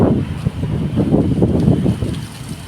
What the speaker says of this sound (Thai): โอ้ลมพัดหมดเลยอ่ะลูก